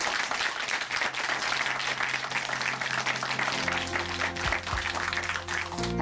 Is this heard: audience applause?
yes